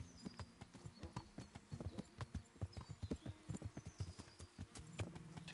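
In the Kingdom Come video game, a horse's hooves clip-clop steadily at a brisk riding pace, a continuous faint rhythm of hoofbeats with no talking.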